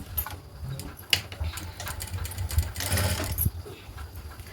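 A sewing machine stitches a blouse seam in a quiet, steady mechanical whir with faint ticking, running continuously and growing a little louder toward the end.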